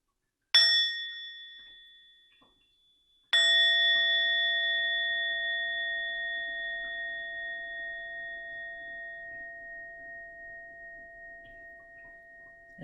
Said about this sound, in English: we'll enjoy a sound of the bell to come to a conclusion of our meditation